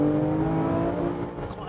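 A Porsche 997 GT3 RS engine drones loudly from inside while driving, a steady harmonic note that fades slightly toward the end.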